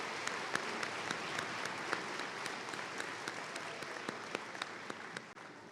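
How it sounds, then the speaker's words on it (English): Audience applause for graduates at a spring commencement ceremony, a steady wash of many hands clapping in a large hall, sustained for several seconds with a few sharper nearby claps before it trails off. "One more round of applause to these special graduates."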